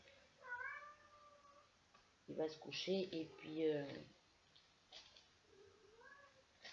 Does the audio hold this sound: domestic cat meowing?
yes